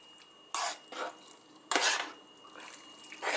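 Basil and egg noodles get stirred into pasta sauce, producing wet, squelchy swishes and utensil scrapes in several bursts, close up, over a low background with no speech.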